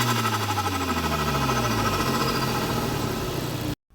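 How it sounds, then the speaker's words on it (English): Cupra engine fitted with a ram air filter and intake setup, a loud continuous engine roar with rising and falling pitch that fills almost the whole stretch, then cuts off abruptly near the end. "So mine has a very common upgrade, which is a ram air filter and intake setup, which is so nice."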